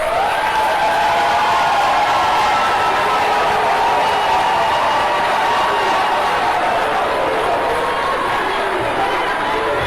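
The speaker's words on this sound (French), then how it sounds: "je vous prie d'applaudir Monsieur le sélectionneur Pagou" Audience at a Cameroonian football awards gala applauding the national team coach: steady, dense clapping mixed with crowd chatter and a few cheers, continuous and fairly close.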